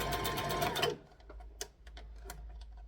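A sewing machine runs fast in a steady whir while stitching a polyester library bag, then stops, leaving faint clicks and small handling taps.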